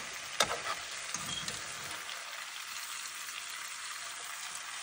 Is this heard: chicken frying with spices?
yes